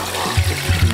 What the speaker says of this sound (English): we're going to pour this in just to catch all the huge bits of fat